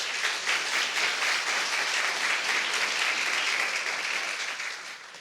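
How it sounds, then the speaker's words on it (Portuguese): A church conference congregation breaks into sustained, dense applause that fills the room evenly for several seconds, then starts to fade toward the end. "Dê um aplauso ao Senhor por isso."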